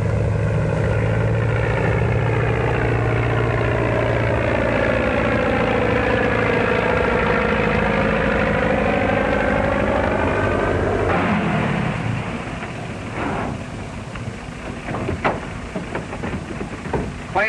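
A plane's propeller engine cranks and runs at an airfield, a loud steady drone with a rising, wavering whine that drops after about eleven seconds into rougher, sputtering idling with knocks.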